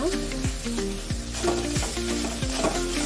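Onion, green chilies and curry leaves frying in a pan for mango rice, with a steady sizzle and repeated low scraping strokes from stirring, close and continuous with no talking.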